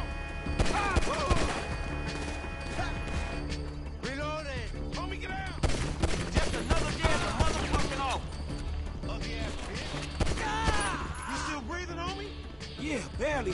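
Gunfire in the video game GTA V, repeated loud shots and crashes mixed under constant talking and game sound throughout.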